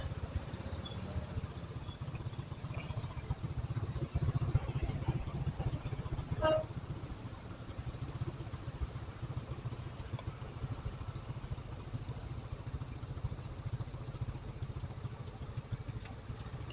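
A motorcycle idles and rumbles in morning traffic in Sragen, a steady low engine drone with faint clatter around it, continuing without pause throughout.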